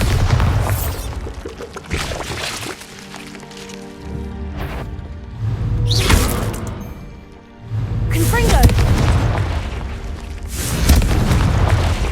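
In the video game Hogwarts Legacy, Bombarda spell blasts go off as several heavy booming explosions with rumbling debris and crackle, mixed with game sounds and a voice.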